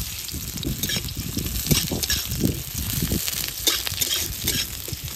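Chopped onion frying in hot mustard oil in a pan for a mushroom dish, a steady close sizzle and crackle with a few stirring scrapes throughout.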